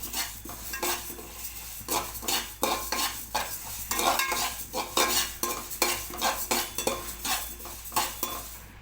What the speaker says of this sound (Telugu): ఇట్లా దోరగా వేగనివ్వాలి